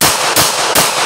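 Three rapid handgun shots fired in quick succession during a practical self-defense shooting drill, loud, sharp and close, evenly spaced about a third of a second apart with no talking.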